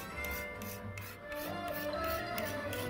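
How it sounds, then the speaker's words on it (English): Frozen dark chocolate grated over a dessert topping, giving a continuous close dry rasping and rubbing that runs steadily throughout, with no talk. "you want the dark chocolate to be frozen so it grates better. So we're just gonna grate that right over the top."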